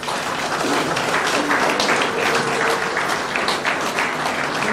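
Audience applause at a formal CENI handover ceremony as two dignitaries exchange signed documents; dense, steady clapping from a crowd holds at full strength throughout, with no break.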